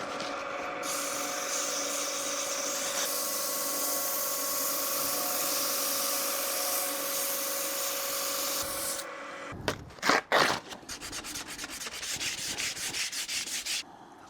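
Steady, continuous sandpaper rasping on wood for several seconds, followed by a series of shorter back-and-forth sanding strokes, close and fairly loud.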